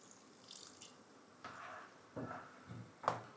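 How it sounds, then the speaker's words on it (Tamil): Water goes into a pan of cooking tomatoes for pav bhaji in a few short, faint pours and splashes, separated by quiet pauses, with a clink near the end. "கொஞ்சமாக தண்ணி சேர்த்துட்டு"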